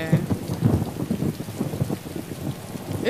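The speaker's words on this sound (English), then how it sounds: "It's raining hard as hell" Heavy rain pours steadily, a dense close patter with occasional louder splashes, no voices.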